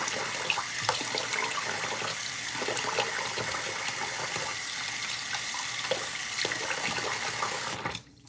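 A tap runs steadily into a sink at close range while eyelashes are washed with a special soap, a constant splashing rush that cuts off abruptly at the end.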